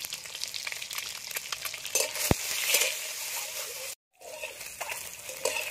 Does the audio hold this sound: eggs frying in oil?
yes